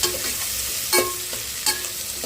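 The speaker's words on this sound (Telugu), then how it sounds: "కొంచెం ఉల్లిపాయ వేయించుకోవాలి." Onion frying in a pan for a Telugu-style mutton tripe curry, giving a steady close sizzle with a few louder stirring scrapes and no talking.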